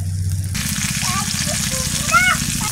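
Oil hissing and sizzling in a pan while prawns cook with taro flower and cucumber, a steady broadband fry that starts abruptly and carries on under a woman's nearby speech.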